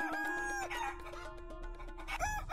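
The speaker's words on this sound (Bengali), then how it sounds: "ওই তো মুরগির আওয়াজ শুনতে পাচ্ছি।" Chickens cluck and a rooster crows close by, the calls overlapping in a busy, continuous barnyard chorus with no talking.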